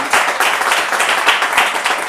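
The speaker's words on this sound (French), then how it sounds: "On peut applaudir encore pour Martin Amougou." Audience applause at a French-language youth talk show, a steady wash of many hands clapping close and loud for a couple of seconds without speech.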